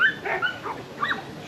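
A dog at the 85th national dog show gives a few short yips and whimpers, close and fairly clear against a quiet hall.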